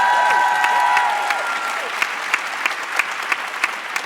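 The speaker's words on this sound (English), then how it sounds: "A louder round of applause," Loud audience applause welcoming panelists at a UN Women gender equality conference, dense clapping at first that thins into scattered individual claps toward the end, with a faint tonal sound early on.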